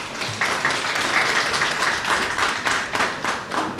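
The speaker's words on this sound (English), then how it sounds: "we'll just give her another round of applause." An audience at the launch of an e-litigation system applauds steadily, a dense, sustained round of clapping that fills the whole stretch without speech over it.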